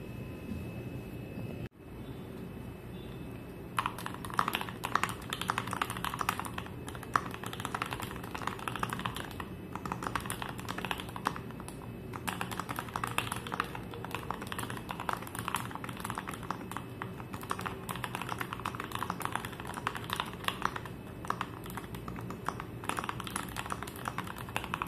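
An Idobao ID42 mechanical keyboard is typed on by someone with long nails, producing a steady, dense patter of close keystroke clacks with short gaps, heard alone over a faint background hum.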